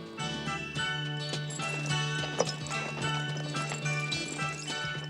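Horse hooves clip-clopping at a steady pace over a loud background of music, with a brief sharp jingle partway through.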